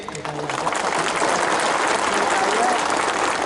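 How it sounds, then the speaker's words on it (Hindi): A large crowd at an outdoor political rally against violence on minorities breaks into sustained applause, a broad hissing roar of many hands that swells and holds steady, with faint voices mixed in. "सब इनको भी एक बड़ा ताली दीजिए।"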